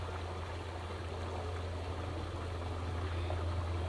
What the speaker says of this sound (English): You can probably hear it we're over by a beautiful stream, river.